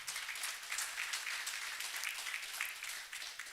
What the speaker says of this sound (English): Round of applause for Dr. Taj, please.